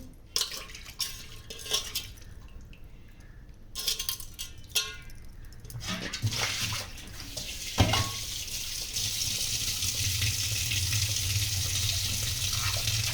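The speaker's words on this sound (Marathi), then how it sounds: "तो धुवून त्याला खळाखळा चांगलं असं हे करून घ्यायचं, सगळं स्वच्छ धुवून." Mutton trotters for paya soup are washed under running water in a sink, with clinks and rattles of a pot and cutlery giving way to a loud, steady gush from the tap.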